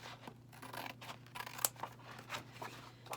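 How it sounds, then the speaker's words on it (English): Teflon non-stick scissors snipping through paper or cardstock in a quick series of short, crisp cuts, close and quiet with no talking. "I am going to cut this with our Teflon scissors that are sticky free"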